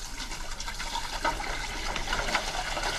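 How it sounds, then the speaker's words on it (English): Water dumped out of a container in a chemistry lecture hall, a steady splashing gush of liquid that stays fairly constant for a few seconds with no talk over it. "We will dump this water out."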